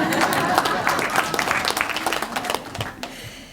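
An audience applauds a Nobel Prize winner, Professor Marwala, at a stakeholder event, a dense round of clapping with some mixed voices that gradually thins out toward the end.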